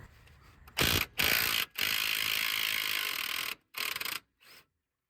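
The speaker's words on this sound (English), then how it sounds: "I was able to undo the nut with the impact gun itself" An impact gun with a size 21 hex socket rattles a nut loose in several sharp bursts: two short ones, a long sustained run, then two brief final hits before silence.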